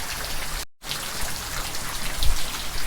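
Steady rain falls outdoors as a dense, even hiss of drops on surfaces, broken once by a brief cut of silence, with no voices present.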